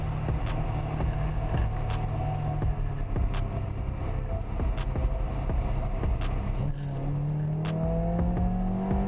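A Peugeot 206 RC engine revs hard with rev-matched downshifts during a street race, loud and close with rising and falling pitch sweeps, joined by road noise and brief tire sounds.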